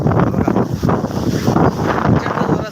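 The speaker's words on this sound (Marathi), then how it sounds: "जोराचा वारा आला आहे मंडळी" Strong gusting wind buffets the microphone continuously at the coastal Goa Fort in Dapoli, Konkan, a loud rumbling roar that swells and dips throughout.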